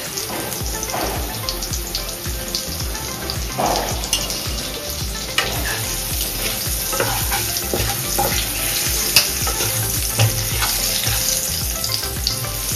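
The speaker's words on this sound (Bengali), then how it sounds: "এবার একটু নুন আর হলুদ গুঁড়ো দিয়ে দেবো জাস্ট হালকা ফ্রাই করার জন্য।" Potatoes frying in oil with salt and turmeric, for a cauliflower and potato dum dish, give a dense, steady sizzle throughout with occasional stirring scrapes and clinks, close and continuous.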